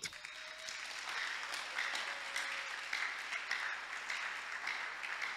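Church congregation applauding to acclaim the king during a worship service, a steady, dense wash of clapping that holds throughout without pause, with faint voices in the background.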